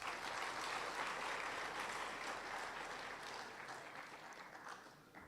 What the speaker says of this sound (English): may we please give the apostle a good round of applause